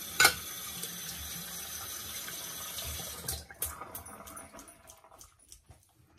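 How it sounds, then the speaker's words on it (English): A badger shaving brush is rinsed under a running tap. The water runs softly and steadily, then breaks into uneven splashes and drips as the flow tapers off. "Rinse off that brush."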